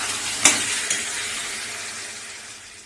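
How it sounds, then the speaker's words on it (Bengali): Egg curry masala sizzles with potatoes in a pan as a steady, close frying hiss, with a sharp utensil clink at the start and a lighter one shortly after. "ডিমের ঝোলের মশলাটা এখন আলুর সাথে কষানো হচ্ছে।"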